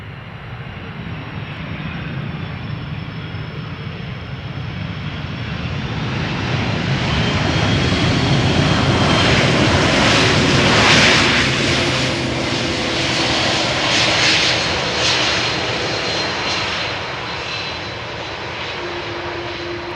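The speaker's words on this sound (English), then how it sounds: "Delta Airlines Flight 74 arriving from Atlanta, Georgia. A330-300, 8 hours 4 minutes underway." A Delta Airlines Airbus A330-300 jet arrives at Amsterdam Schiphol airport, its engine roar swelling from a distant whine to a loud close pass, then fading into a steady rumble as it rolls away.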